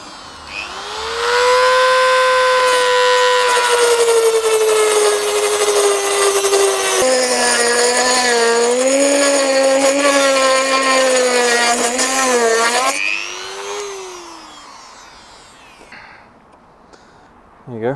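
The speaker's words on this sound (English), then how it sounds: "I had to cut the damn thing off" A power tool cuts through a broken bolt on a Kawasaki ZZR1400 motorcycle, giving a loud, sustained whining screech that shifts pitch as the load changes, then winds down and fades after about thirteen seconds.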